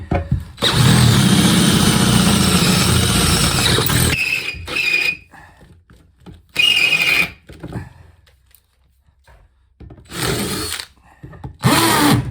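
A hammer drill whirs loudly for several seconds, then stops, followed by shorter drilling bursts with squealing pauses in between, while fitting out a narrowboat.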